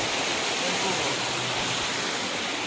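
A year-round waterfall at Bhimuni Mallareddy Pet in Telangana roars steadily and loudly, a dense unbroken rush of falling water heard close with no pauses.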